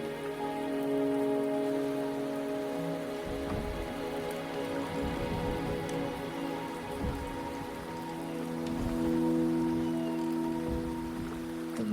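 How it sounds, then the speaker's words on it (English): Steady rain pours down in the video game Wuthering Waves, a dense, even hiss of drops spattering on surfaces with faint scattered patters, continuous and close, with no voices over it. "The rain is subsiding, and the sky will soon clear."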